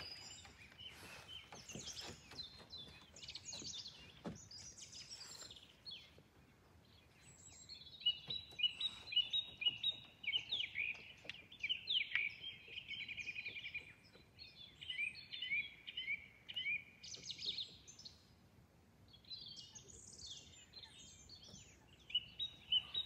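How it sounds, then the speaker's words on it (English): Birds sing and chirp by Lake Brienz, with bright, repeated whistling phrases and trills carrying on through the whole stretch, some close and clear, others softer in the background, over a quiet outdoor hush. "I'm silent now because the birds are singing"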